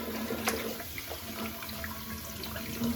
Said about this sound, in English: Let's get some hot water going here.